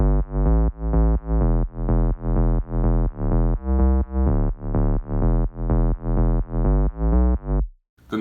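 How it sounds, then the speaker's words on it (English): A classic square-wave bass synth patch built in Sylenth plays a repeating rhythmic pattern of deep, buzzy notes, loud and isolated, then stops abruptly at the end. "It's like a classic square bass sound."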